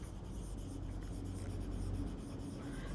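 Pen or marker scratching steadily across a board during a grammar lesson, a continuous close rubbing stroke with no voices.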